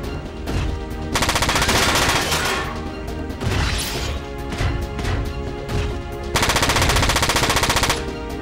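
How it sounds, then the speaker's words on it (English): Rapid machine gun fire in Front Mission 4, loud dense bursts of automatic shots with a crash in the middle, up close and continuous with little pause. "How many bullets did he put out at rapid fire too?"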